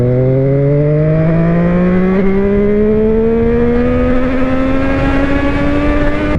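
An SWM motorcycle engine revs steadily higher as the bike accelerates along a national speed limit road, loud and close, with wind rush and one brief spoken word.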